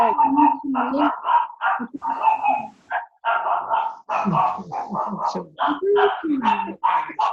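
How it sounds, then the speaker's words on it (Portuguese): An agitated dog barks repeatedly in a home, short sharp barks and yips in quick bursts, close and loud, with people talking over a call. "É um cachorro bravo, hein?"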